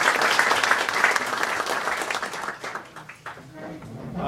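A crowd applauds warmly to welcome a guest speaker at the Cape May County State of the County 2018 gathering, with dense, steady clapping that gradually thins toward the end.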